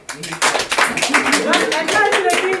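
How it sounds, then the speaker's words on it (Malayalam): A group applauds at a birthday celebration, with dense, steady clapping running close and loud throughout and voices mixed in underneath. "അപ്പൊ ഒരു ക്ലാപ്പ് എല്ലാരും കൊടുത്തു"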